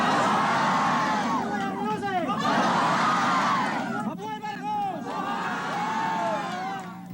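A large outdoor crowd cheers and shouts in greeting to Imelda Marcos during her exile in Hawaii. The roar is loud and sustained, with whoops and babbling voices rising and falling in waves.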